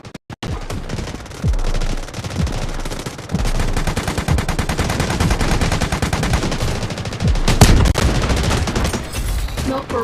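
Rapid gunfire barrage from a smoke screen attack in Genshin Impact, with dense, continuous bursts of shots and booms over several seconds, loud and close.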